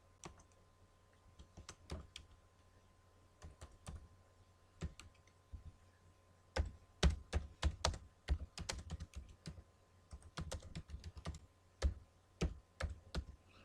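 Keys clatter on a computer keyboard in scattered bursts while typing into an Excel spreadsheet cell, sparse at first and then faster and denser, close and clear with no talking.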